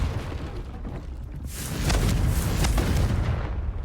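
A Confringo blast spell in Hogwarts Legacy bursts into a loud, broad whoosh and explosive roar about halfway through, following a quieter rumbling lead-in, with no talk.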